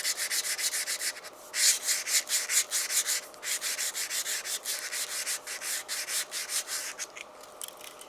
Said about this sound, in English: just finish it off running up and down the shaft with 120 grit